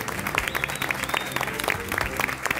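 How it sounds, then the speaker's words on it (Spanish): Studio audience applause on a television cooking competition, a short burst of brisk, dense clapping with crowd noise and music underneath, fairly close and steady. "Un aplauso les damos a Sarita y a Juani."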